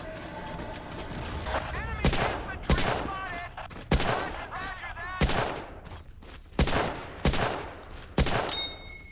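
Battlefield 1942 rifle gunfire rings out in sharp, loud single shots spaced a second or so apart, with faint ambient birdsong and distant battle noise between them.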